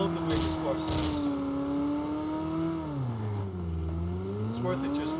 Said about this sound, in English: I love the way this car sounds.